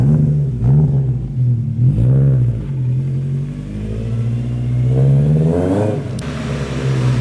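A Toyota AE86's engine revs loudly and close up on a driving lap, rising and falling through several pulls with a steady drone between them.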